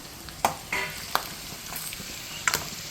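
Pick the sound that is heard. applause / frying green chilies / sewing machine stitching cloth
frying green chilies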